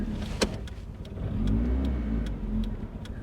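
A 1992 Saturn SL2 engine runs rough, a moderate uneven mid-pitched drone with irregular surges and small clicks and taps over it, heard close inside the car.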